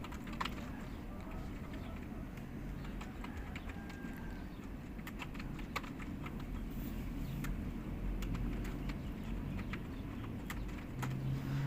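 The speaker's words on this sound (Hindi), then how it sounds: "सिंपल यहाँ पे मांगता है जीमेल, मैं यहाँ पे अपना जीमेल लिखता हूँ।" Computer keyboard keys click in quick irregular bursts as a Gmail address is typed for a Kwork sign-up, faint over steady low room hum.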